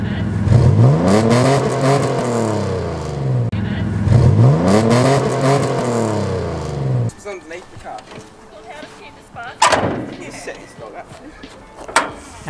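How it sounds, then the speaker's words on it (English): A Mitsubishi car engine revs twice in quick succession right at the exhaust, each blip swelling loud and close and then falling away, followed by quieter idling and a few sharp knocks. "Go to the exhaust and just give it a rev or two at the exhaust"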